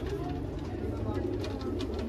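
Soft, repeated cooing of Meerut Teddy Rampuri pigeons at a pigeon seller's shop, low and fairly quiet, with a steady murmur of background noise throughout.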